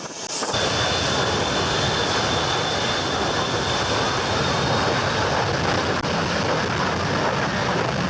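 A fixed-wing airplane with a student pilot aboard takes off, its engine roar steady, loud and close, holding continuously with no voices.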